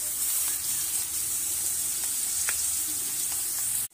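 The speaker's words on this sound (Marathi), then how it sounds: "यात आता आपल्याला कांदा पहिल्यांदा भाजून घ्यायचा आहे व्यवस्थित" Onion frying in a pan for a spicy potato curry, a steady loud sizzle with a few faint stirring scrapes, close up, ending in an abrupt cutoff, no speech.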